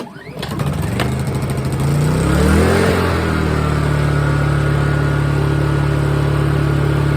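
A generator engine on a 2015 Jayco 184BH travel trailer cranks and catches, rising quickly into a steady, loud running drone that holds evenly after start-up.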